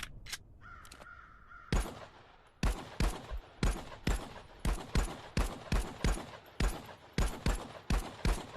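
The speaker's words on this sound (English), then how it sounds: "here we are shooting the pistol" Pistol shots in a VR shooting game fired with a haptic gunstock, a steady series of sharp single cracks at roughly half-second intervals, loud and close with little else around them.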